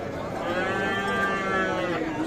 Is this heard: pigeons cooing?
no